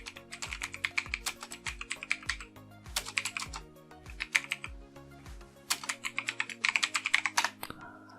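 Close, crisp typing on a computer keyboard comes in several uneven bursts of quick clicking keystrokes with short pauses between, alone without any voice.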